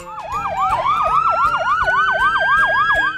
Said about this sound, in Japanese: ほら、救急車さんだ。